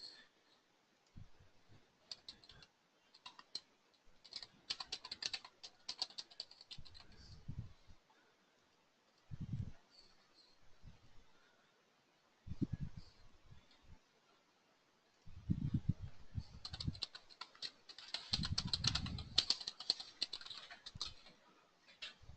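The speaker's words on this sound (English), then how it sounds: "Here, I'll type it in for you really quick." Bursts of keyboard typing on a computer while entering an email address into an order form, clustered in short runs with pauses between, moderately close and fairly quiet, with little else around.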